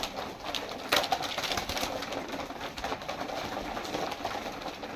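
Pigeons at feeding time coo softly in a loft, with a steady low murmur of birds and occasional sharp knocks and flutters close by.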